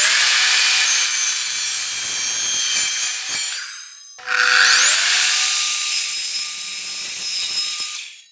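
Metal tubing for a coffee table being cut by a power saw in two long passes, each a loud, steady, high whine that winds down, separated by a brief quiet gap.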